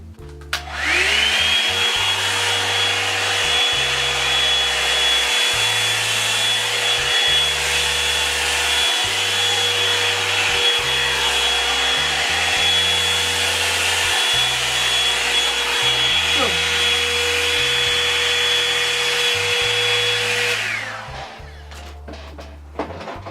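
A Revlon Salon One-Step hair dryer brush runs steadily for about twenty seconds while drying and straightening hair, a loud continuous whine with airflow roar, then cuts off near the end.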